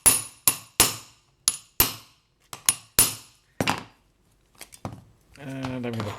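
A metal tool struck sharply against a pierced spatula to deepen a forged groove, several loud ringing blows in an uneven series, followed by a brief burst of talking at the end.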